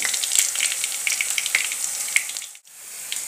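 Chopped onions and tomatoes sizzle and crackle steadily in a hot pan on a gas stove, a close bright hiss that briefly drops out near the end before resuming.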